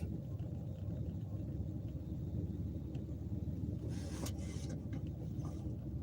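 Steady low engine rumble and road noise heard from inside a car, constant and fairly loud throughout, with a brief brighter rustle near the end and no talk.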